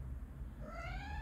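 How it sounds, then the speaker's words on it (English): A house cat meowing indoors, a single rising, drawn-out meow heard faintly at a distance over a low room hum. "There's my cat."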